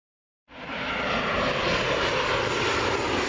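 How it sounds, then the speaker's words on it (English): A Southwest airliner's jet engine starts abruptly and holds a loud, steady roar and hiss from close by, with no voices. "this was your plane."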